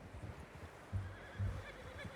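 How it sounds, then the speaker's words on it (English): A horse whinnies in Red Dead Redemption 2, two short low snorting bursts near one and one and a half seconds over soft steady hoof clip-clop and faint background ambience, with no talking. "How's that new horse?"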